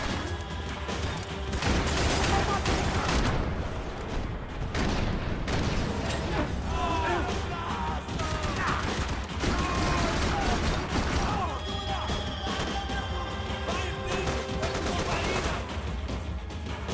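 Dense gunfire fills a Max Payne 3 firefight as rapid volleys of shots crack and rattle almost without pause, with bursts of impacts and debris layered over a constant, loud barrage.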